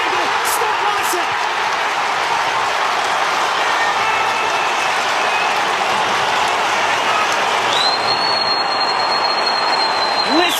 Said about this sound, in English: Listen to the home crowd erupt